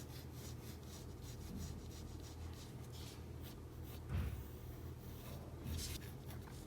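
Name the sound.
pencil drawing on paper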